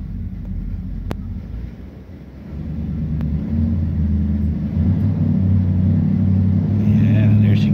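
A 1993 Chevrolet K1500 pickup's engine running on a dyno, a deep loud rumble that builds and holds steady with rising intensity, heard up close without voices.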